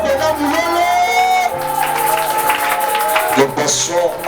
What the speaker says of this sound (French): J'ai besoin de voir vos acclamations.